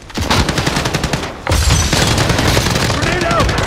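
Airstrike explosions and rapid gunfire in Call of Duty Warzone, with loud bursts of automatic fire followed by a heavy booming blast that rolls on as a dense, sustained roar of explosions.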